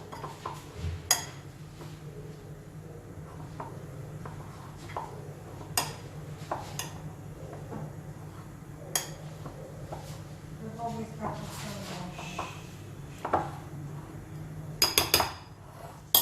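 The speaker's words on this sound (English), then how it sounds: "So I'm using a spoon here to mix everything together" A spoon mixes horse gram paratha dough in a bowl, making scattered metallic clinks and scrapes against the bowl amid a low background hum, with a person talking over much of it.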